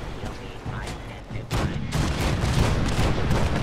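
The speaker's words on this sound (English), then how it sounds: "Fire the cannons again." Cannons fire in the Fallout 4 video game aboard the USS Constitution, heard as a dense, rumbling barrage of booms that swells partway through and stays loud to the end.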